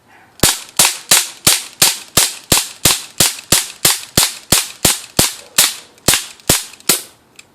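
Gunfire in a first-person shooter video game, a rapid even string of about 19 sharp loud shots with no talking.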